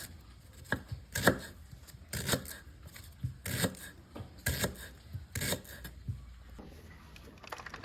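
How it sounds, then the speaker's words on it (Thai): A knife chops through lemongrass stalks on a board in sharp, evenly spaced strokes, about seven cuts, close up with quiet pauses between. "ซอยตะไคร้ต่อเลยนะครับ"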